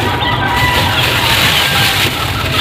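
Native chickens clucking at an egg-harvest spot, a busy farmyard murmur of fowl sounds with some sloshing, steady and fairly close throughout.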